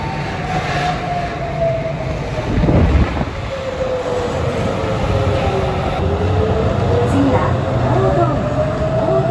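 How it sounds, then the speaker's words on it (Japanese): An electric train on the JR Muroran Main Line runs with a steady rolling rumble and a rising, falling electric motor whine. Murmured voices sit underneath. "室蘭本線。 これは機動車ではなく電車ということになっています。"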